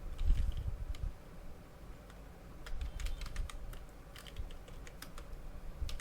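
Computer keyboard typing at moderate distance, steady clicking keystrokes in irregular runs over a low background hum.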